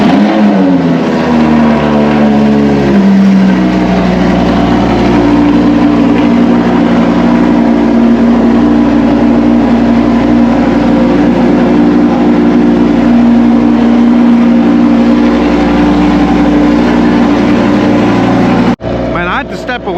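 A Lamborghini engine fires up with a loud roar, then settles into a deep, steady, rumbling idle close by, with voices talking over it.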